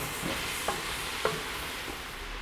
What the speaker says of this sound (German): Auch die werden wir mit anbraten, sodass sie erstmal schön ein wenig Wasser lassen können.